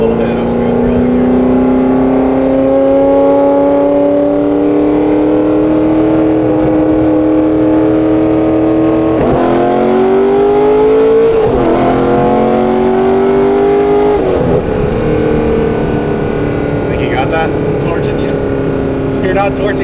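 A Corvette Z06 engine revs hard and pulls through a gear change, loud and close, with rising pitch sweeps and a brief drop between, its roar filling the whole clip.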